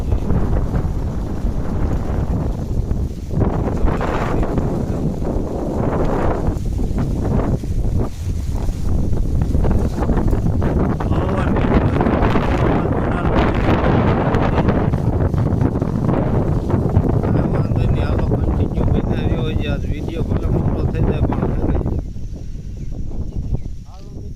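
Strong wind buffets the microphone in a continuous loud roar, gusting and rustling for the whole stretch.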